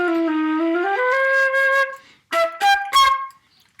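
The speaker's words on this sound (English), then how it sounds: "And then you move your fingers to change the pitch of the sound." A flute plays a short melodic phrase up close: a held low note, a step up to a longer note, a pause, then three quick higher notes as the fingering changes the pitch.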